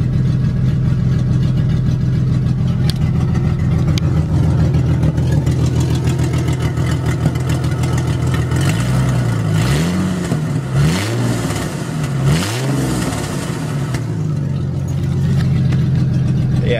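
A car engine idles with a lumpy, choppy note like an aftermarket cam, then blips through a few quick revs before settling back to a steady idle, loud and close throughout.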